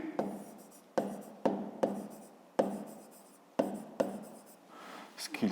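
A pen writes by hand on paper during a fifth-grade maths exercise, making close scratchy strokes in repeated bursts, each starting with a sharp tap, with short pauses between them.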